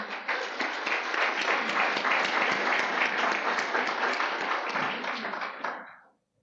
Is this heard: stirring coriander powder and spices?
no